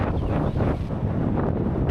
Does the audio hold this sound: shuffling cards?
no